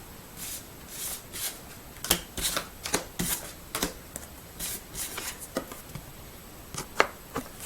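Cards from a tarot deck handled and drawn, crisp papery flicks and slaps repeating irregularly up close over a soft hiss, with no talking.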